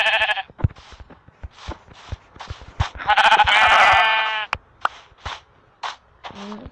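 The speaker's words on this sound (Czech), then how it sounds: "Chceme zabíjet ovečky" Blocky sheep bleat in Minecraft Pocket Edition, several short nasal calls and one longer, louder bleat, spaced among sharp clicks and footstep-like taps.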